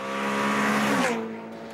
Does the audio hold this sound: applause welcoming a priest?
no